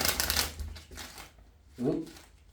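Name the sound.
shuffling tarot cards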